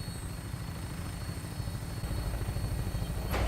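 A Vertibird aircraft taking off in Fallout 4, a steady rhythmic rotor thump and engine drone that grows slightly louder, close and alone.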